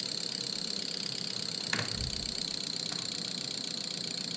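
A Mahindra Max Pikup 1.7-litre diesel engine idles at low RPM with a steady, even drone, close and continuous, and a single brief knock partway through.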